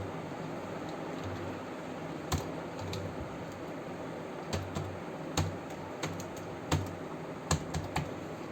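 Someone types an ID and password on a computer keyboard while booking a train ticket online, producing scattered soft key clicks and occasional sharper taps in irregular bursts over a faint steady hiss.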